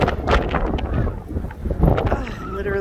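Strong gusty wind buffets the microphone in heavy rumbling bursts outdoors on a windy day, loud and uneven throughout, with a person's voice briefly heard.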